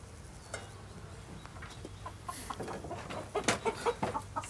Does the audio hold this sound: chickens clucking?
yes